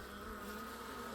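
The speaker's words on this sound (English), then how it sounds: "There's a wasp there." A wasp buzzes close by near a beehive in autumn, a steady, continuous drone that holds evenly throughout with no pauses and no voices.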